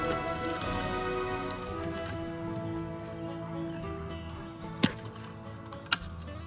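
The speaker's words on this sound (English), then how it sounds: "Please don't tell me it's raining." Steady patter of rain on a surface, constant and moderately faint, with a couple of sharper drip or tap sounds near the end.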